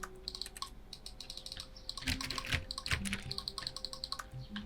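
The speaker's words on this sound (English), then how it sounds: "If I press the left mouse button on my mouse, it sounds like this" Mouse and keyboard clicks at a computer desk in an office game setting, a quick irregular run of sharp, close taps, fairly faint, with soft background noise.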